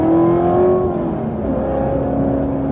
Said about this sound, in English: I actually kind of enjoy hearing a little bit of the supercharger whine.